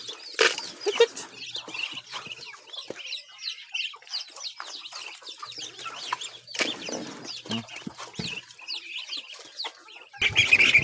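A flock of chickens clucks and chatters continuously at moderate distance while being fed alongside ducks, with occasional wing flaps and bursts of louder activity, and a voice briefly in the mix.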